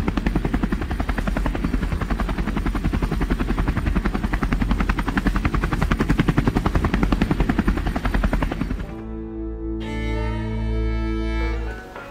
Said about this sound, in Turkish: onları kurtarmaya gelen bir helikopter